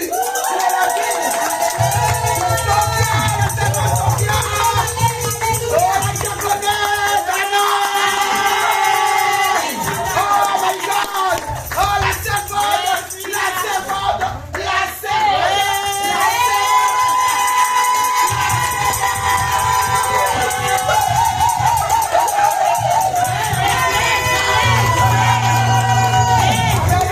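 A church congregation cheers and acclaims Jesus with shouts, whoops and sustained crowd noise, while music plays steadily underneath throughout.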